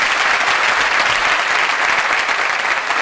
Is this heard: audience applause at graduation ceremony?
yes